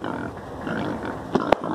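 Pig grunting at a toy farm pigsty, a rough, continuous snorting texture with a couple of short sharp clicks near the end, close and moderately loud.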